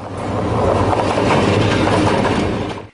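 A train runs on rails close by, a loud dense rumble with clattering wheels that holds steady for a few seconds before cutting off abruptly.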